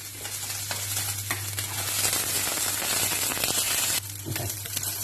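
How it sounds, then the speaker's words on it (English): Sausages sizzling and browning in a buttered pan, a close, steady crackling hiss with a faint low hum beneath, briefly dipping near the end. "we're going to do now is we're going to brown the sausages"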